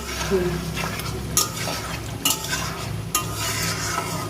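Okra cooks in plenty of mustard oil under a constant sizzle while a spoon stirs and scrapes the pan, with three sharp knocks against the metal standing out; no voices.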